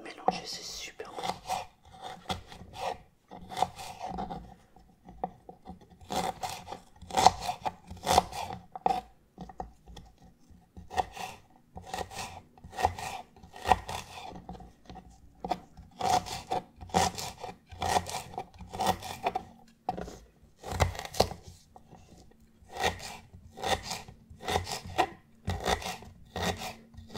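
Ginger pieces being cut and rasped for a curry stir-fry, a steady run of close, crisp scraping and chopping strokes in quick rhythmic clusters, accompanied by soft whispered speech.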